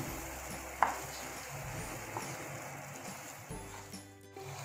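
Multani sohan halwa cooks in ghee while being stirred, a faint, steady sizzle with soft scraping strokes and one brief clink near the start.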